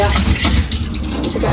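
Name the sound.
strongly running water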